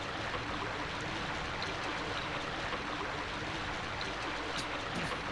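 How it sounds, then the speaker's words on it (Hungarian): A toilet flushes in the Silent Hill PS1 video game, a steady, dense rush of water that pours continuously at an even level with no voices over it. "Lehúztuk a klotyón a kulcsot."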